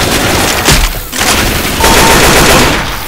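Rapid, sustained automatic gunfire from a video game firefight, loud and dense throughout, with bursts overlapping and a few heavier booms mixed in, no voices.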